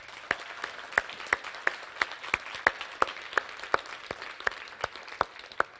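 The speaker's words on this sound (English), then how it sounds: "Quick round of applause for them." Applause from a conference audience at a women's event in a large hall, made of sparse, sharply spaced claps in a steady rhythm that carry through the whole stretch at moderate distance, with no talk over it.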